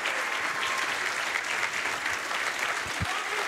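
Live crowd applauding and cheering at a Summer Games Done Quick speedrun event, a dense, steady wash of clapping that fills the whole moment at close, loud level.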